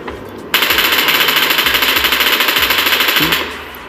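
Rapid automatic gunfire in the mobile battle royale game PUBG New State, a loud continuous burst of evenly spaced shots lasting about three seconds, preceded by quieter game ambience and no talking.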